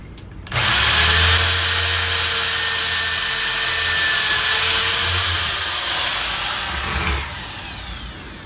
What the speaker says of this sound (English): Also the vacuum handy.